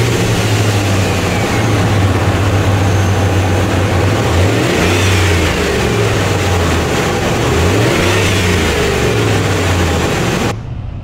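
A 2003 Dodge Ram 1500 pickup with a 5.7 liter Hemi V8 and 4,000 miles idles loudly and steadily, rising through several throttle revs before cutting off abruptly near the end, no talking.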